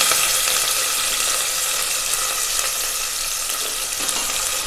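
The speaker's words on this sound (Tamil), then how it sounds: "இப்போ இதை நல்லா வதக்கிடலாம்." Small shallots, sliced lengthwise, sizzle steadily in hot oil with mustard seeds and cumin, a dense, even frying hiss that runs loud and unbroken throughout.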